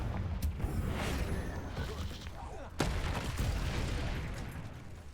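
Blasting explosions from the Confringo curse in Hogwarts Legacy burst out in a quick volley, with a sharp heavier blast midway, under a person shouting spell names.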